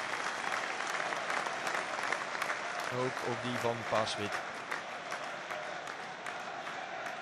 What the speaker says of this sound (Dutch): Applaus op alle banken.